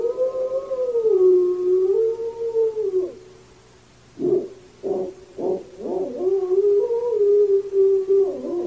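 A lost dog howls at night in long, sustained, wavering tones, breaking off briefly, then returns with several short yelping rises before settling into another drawn-out howl, loud and close.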